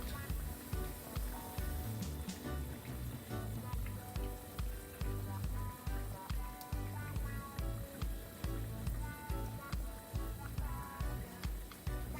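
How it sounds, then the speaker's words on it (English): Jamaican banana fritter batter, dropped by the spoonful into a frying pot, sizzles steadily in hot oil, a continuous close crackle, with rhythmic music playing underneath throughout. "keep scooping and dropping spoonfuls of the mixture into the frying pot."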